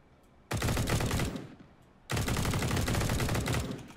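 Turrets in the survival game Pantropy fire two long bursts of rapid automatic gunfire, loud and dense, with a short quiet gap between them and no talk over the shots.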